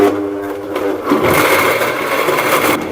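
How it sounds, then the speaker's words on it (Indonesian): An electric blender grinds a base spice paste, its motor a loud, steady whir with a grainy churning texture that holds for the whole stretch. There is no talking. "Tos, ayeuna di blender dicobian."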